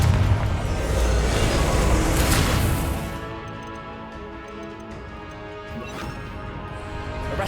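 A Confringo blasting spell goes off in a Harry Potter video game as a loud crashing explosion that fades after about three seconds. A fainter impact follows near the end.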